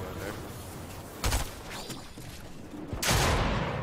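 Gunfire in Fortnite during a double SMG fight: a couple of sharp bursts of shots cut through a busy game mix, the loudest a sustained blast near the end.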